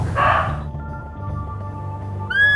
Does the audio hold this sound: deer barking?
yes